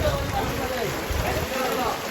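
Rain falls steadily in a constant hiss during the 2024 flood in Jagannathpur, Sunamganj, with voices talking underneath.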